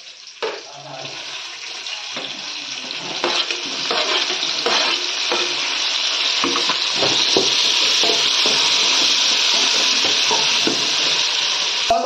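Tomatoes fry in a pan for a rock fish curry and are stirred: a steady, close sizzle with repeated spoon scrapes and clinks against the pan.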